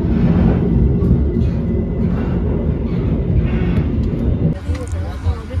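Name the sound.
Progo train departing and entering Gombong station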